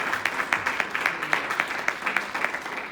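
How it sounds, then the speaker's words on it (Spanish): A church congregation at Iglesia Oasis in Hesperia, California claps together for the Lord, a steady stream of fairly even, rhythmic claps in a roomy space, moderately loud and sustained throughout. "Gloria a Dios, denle un aplauso al Señor."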